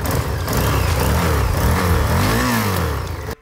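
A superbike engine revs loud and close, bursts of rising and falling pitch over a constant throaty drone, then cuts off abruptly at the end.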